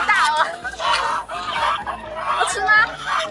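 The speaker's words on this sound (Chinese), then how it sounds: "那个鹅想吃了，鹅想吃" Farm geese and chickens call out while being fed grain, repeated loud honking and clucking bursts close by, with people talking intermittently.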